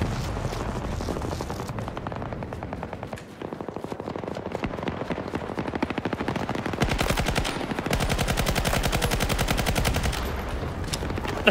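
Rapid bursts of turret machine-gun fire in a Battlefield video game, long dense rattling volleys that continue with brief pauses, loud and close, with no talk.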